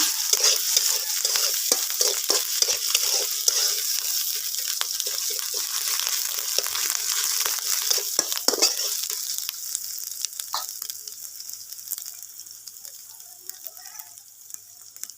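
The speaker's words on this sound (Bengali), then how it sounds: "জিরে ধনে পাতা ভালো করে কষিয়ে নেব" Cumin, coriander leaves and ginger-garlic paste fry hard in a pan for a rohu fish and taro curry, a loud crackling sizzle with rapid stirring scrapes that gradually thins and quiets over the second half, no one speaking.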